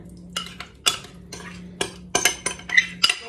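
Marinated eggplants stirred in a container with a utensil, giving a series of sharp clinks and scrapes at irregular intervals, close and distinct with a faint steady hum underneath.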